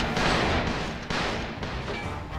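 Gunfire from the Resident Evil 5 video game crackles in a dense, loud stream of shots and impacts, with no clear gaps between them.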